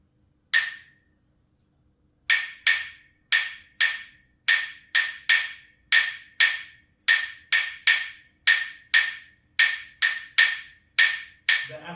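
Clave sticks tap out a rumba clave rhythm, crisp wooden clicks in repeating two-bar phrases after a single opening strike, close and clear with nothing else playing.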